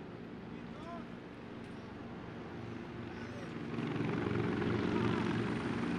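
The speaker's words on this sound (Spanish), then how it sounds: "En este momento podemos apreciar el sobrevuelo de los helicópteros Sea King y AB-412 de la Fuerza de Aviación Naval" Sea King and AB-412 naval helicopters of the Naval Aviation Force fly over a palace changing-of-the-guard ceremony, a steady rotor and engine drone that swells louder toward the end, with a voice speaking over it.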